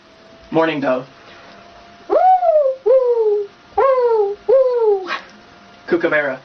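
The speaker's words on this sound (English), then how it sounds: "Morning dove." Mourning dove cooing, a series of four soft, mellow hooting coos spaced evenly apart, fairly close and clear, with brief bursts of other animal calls just before and after.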